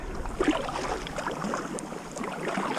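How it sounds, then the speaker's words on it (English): A wooden duck boat paddled on open water makes soft, continuous swishing and lapping water sounds from the paddle strokes, close up, with light wind noise and no talking. "And this thing is paddling great."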